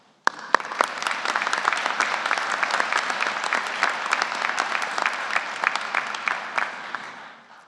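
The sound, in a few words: commencement audience applause for supporters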